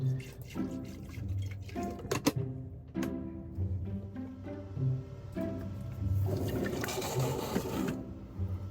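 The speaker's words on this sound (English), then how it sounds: "Just enough to make some suds, and then I'll fill the rest up with hot water." Water runs from a tap into a sink, a soft steady splashing that grows fuller as it fills, with faint clinks nearby.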